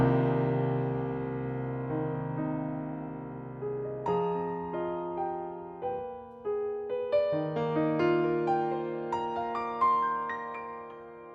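Yamaha CFX grand piano from the Synchron Pianos sampled library on its player room mix preset, sustained low chords giving way to a melodic line of single notes and chords that ring and decay, played alone without talk.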